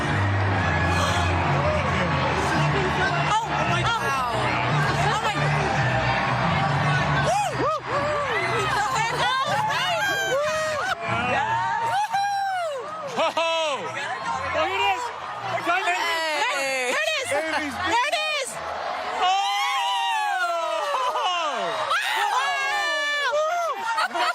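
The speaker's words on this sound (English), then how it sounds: "Oh, the crowd is so excited. Can you hear everyone cheering?" A crowd watching a total solar eclipse whoops and cheers in rising, scattered shouts and laughter around close excited voices, swelling in bursts over about twenty seconds.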